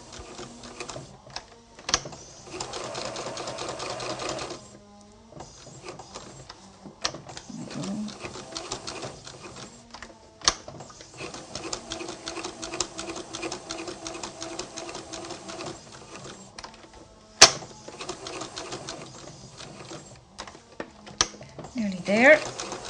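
Sewing machine running a straight stitch around the edge of a fabric motif, whirring in long steady runs broken by short pauses as the fabric is turned, with a few clicks between runs.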